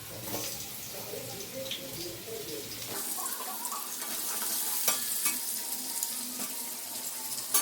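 Potatoes fry with salt and turmeric in hot oil, a soft hiss and crackle that swells into a steadier sizzle with clinks of stirring, faint overall.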